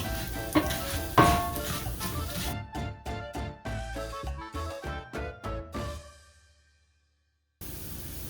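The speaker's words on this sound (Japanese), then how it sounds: "全体のお米がこのようになるまで炒めていきます。" Rice for Mexican rice stir-fries in a pan, a dense sizzle with rhythmic scraping strokes of a spatula that quicken into a series of distinct scrapes, then fade to silence before the sizzle returns.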